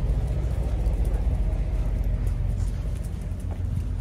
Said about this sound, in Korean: 차들이 많아서 엄청 시끄럽네요.